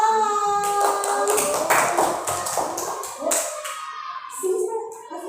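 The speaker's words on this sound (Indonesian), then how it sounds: "100 untuk kelompoknya Mas Naufal, tepuk tangan." Schoolchildren clap in a primary school classroom, a brief burst of applause mixed with young voices and chatter throughout.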